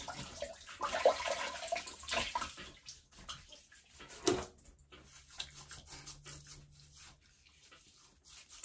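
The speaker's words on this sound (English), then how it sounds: "And we'll splash a little bit of water on the face." Water splashed onto a face at a bathroom sink before a wet shave, broken splashes and running-water noise close by, loudest in the first few seconds then quieter with a brief sharp splash midway.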